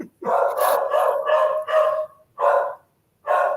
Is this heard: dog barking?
yes